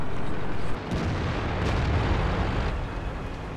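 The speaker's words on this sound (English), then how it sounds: "I didn't have time to aim in all the way, so I took a shot, just hoping I'd hit." A tank cannon fires in the video game World of Tanks, a loud, dense booming blast that cuts off abruptly and then rolls on as a sustained rumble.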